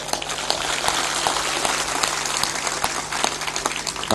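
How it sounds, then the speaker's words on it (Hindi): A crowd at a spiritual discourse claps loudly and continuously, a thick, lively patter of many hands with sharper individual claps popping out, steady from start to finish. "थोड़ा जोर शोर से ताली बजाया करो।"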